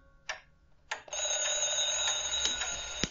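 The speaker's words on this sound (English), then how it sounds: "And of course there is an alarm." Two short ticks, then an alarm clock starts ringing steadily with a bright, continuous metallic trill that carries on to the end, up close and loud.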